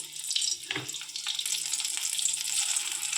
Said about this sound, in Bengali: তেলটা গরম হয়ে গেছে, একটা একটা করে ভেন্ডি দিয়ে দেবো।